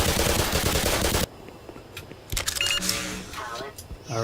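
Rapid automatic gunfire in the video game Black Mesa as a magazine is emptied, a loud dense burst in the first second that cuts off abruptly, followed by quieter game effects and a voice talking.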